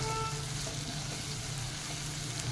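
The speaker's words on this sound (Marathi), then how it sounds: "आता त्याच्यामध्ये डब्बू मिरची घातलेली आहे ती पण एखादं मिनटं आपण परतून घेऊया" Onion and capsicum are sautéed in a pan, a soft, steady frying hiss at low volume that runs evenly from start to finish with no talk.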